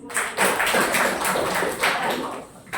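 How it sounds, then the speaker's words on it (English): A group claps in a brisk burst of applause lasting nearly three seconds, dense and steady at moderate loudness, with no voices. "Applause."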